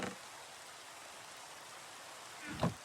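Steady in-game rain from UniversIO hisses softly and evenly throughout, fairly faint, with a brief louder thump near the end.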